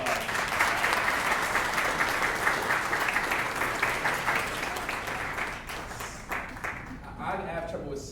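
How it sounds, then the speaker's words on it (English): Dense applause from an audience at a councilman's State of the District event, honoring a community member; steady clapping that thins and tapers toward the end. "Everybody give Ms. Emerson a round of applause"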